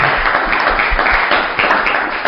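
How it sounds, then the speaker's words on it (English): Audience applause at a church panel discussion, a loud continuous patter of clapping from a crowd lasting the whole moment with no talk over it. "Please a round of applause."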